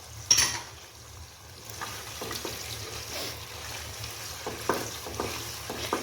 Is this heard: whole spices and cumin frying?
yes